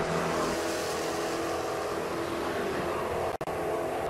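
Race car number 99 launching hard off the line at a drag strip, a loud, steady, close engine roar with no let-up, cut by a brief dropout near the end.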